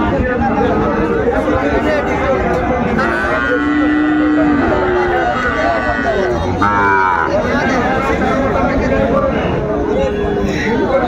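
Sahiwal cattle and calves at a busy Bangladeshi livestock market, with several low moos rising over constant crowd chatter and nearby talking.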